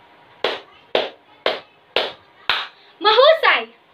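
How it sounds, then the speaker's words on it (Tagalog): Five sharp, evenly spaced claps from a class of students follow one another about half a second apart, close and loud. They end in a brief burst of children shouting together. "Ngayon ay bigyan nyo ng 5 palakpak ang inyong mga sarili"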